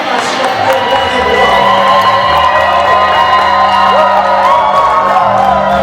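Wedding guests at a church ceremony cheer loudly and continuously, with whoops, ululating shouts and high excited voices blending into a dense crowd roar.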